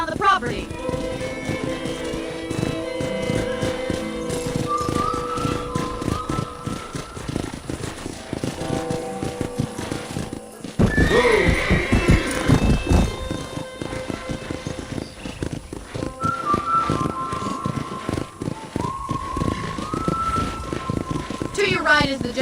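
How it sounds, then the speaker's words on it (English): Horse hooves clip-clop steadily while riding in the Wild West video game Red Dead Redemption, a rhythmic clatter running under game dialogue with a brief break in the middle. "let's see if you can still ride a horse"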